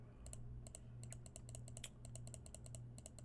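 Rapid computer clicking while browsing trading charts, a quick irregular series of about twenty crisp clicks in bursts over a low steady hum, close and alone with no talk.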